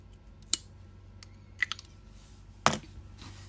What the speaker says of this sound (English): And then I will cut the remaining yarn.